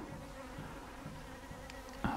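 Honeybees fly out of the hive in February on a cold day around plus 8 degrees, giving a faint, steady buzzing drone of many wings, with a slightly louder close pass at the end.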